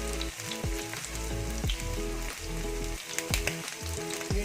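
Green chilies dropped into hot oil, a dense, steady crackling sizzle with popping spatter throughout, loud and close, no voices.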